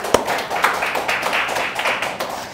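A church congregation at a Sunday service breaks into applause, a dense, steady patter of many hands clapping nearby, opening with one sharp clap.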